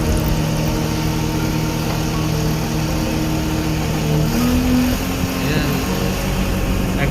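Sinomach GYS08J road roller engine running steadily as the machine moves forward, a continuous mid-pitched drone with a brief rise in pitch partway through, with speech audible at times.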